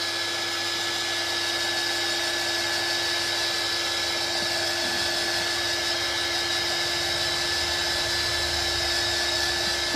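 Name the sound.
heat gun drying watercolour pencil work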